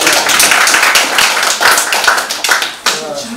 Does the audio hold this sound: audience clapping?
yes